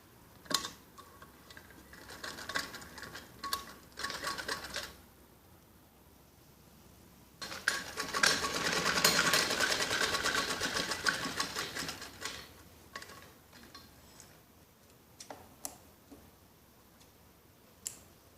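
A sewing machine stitches a gathered kids' skirt, running in short stop-start bursts, then one longer steady run, then more brief bursts, fairly quiet and close, with no talking.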